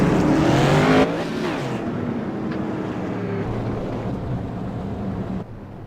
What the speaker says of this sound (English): These cars spun out on the track.